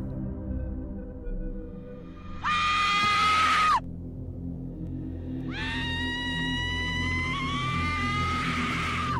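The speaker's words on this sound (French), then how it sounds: "Ces cris qu'on entend m'ont littéralement glacé le sang." Piercing screams from a horror video game, two drawn-out shrieks: a short one, then a longer, wavering cry, over a low, dark ambient drone.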